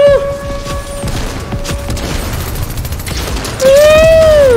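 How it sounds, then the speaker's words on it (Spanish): Scattered gunshots and grenade blasts in a Call of Duty-style point-capture match played in Fortnite, loud pops and bangs mixed with rising whistling tones. "Hay muchísima gente lanzando granadas"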